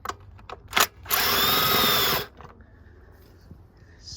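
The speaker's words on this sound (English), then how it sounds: "So I'm just going to take these screws out." Power driver briefly whirring at high speed to back out a T30 Torx screw from the coil pack cover on a 1998 Volvo S40/V40, one steady burst of about a second framed by small handling clicks nearby.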